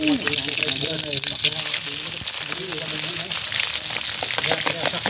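Green mussels hit hot cooking oil and set off a steady, close crackling sizzle with bubbling spatter that runs the whole time, while faint voices come through underneath.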